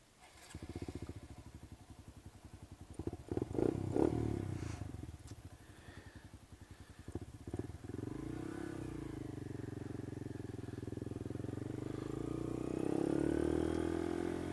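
A 2015 Honda Grom motorcycle being ridden, its small engine putting out a steady pulsing drone that revs up in bursts early on, then settles into a smoother cruising hum with wind noise, rising again toward the end.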